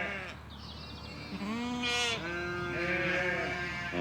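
Landes de Bretagne sheep bleat on open heathland, several overlapping wavering calls close by, with one louder bleat standing out over a steady background of wind and outdoor noise.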